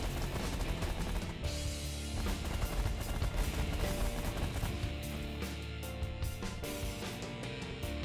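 A rapid-firing minigun in The Last Federation pounds an armored ship, a dense, continuous stream of loud gunfire impacts and crashes with no letup, heard alone without voices.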